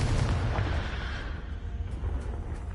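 A Confringo explosion spell in Hogwarts Legacy, a single low, muffled rumbling blast that decays over a few seconds, fairly quiet and alone.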